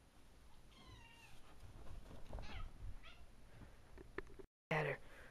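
Cat meowing in a quiet outdoor setting, a few faint, short meows spread through the clip alongside scattered low noises and a brief dropout near the end.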